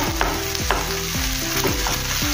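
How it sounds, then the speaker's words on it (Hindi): Ginger garlic paste frying in a hot pan on a large gas burner while being stirred, a steady sizzle broken by repeated scraping strokes of the spoon, close and without talk. "अभी इसमें हम अदरक लहसुन का पेस्ट डालेंगे। इसको हम आधा मिनट तलेंगे"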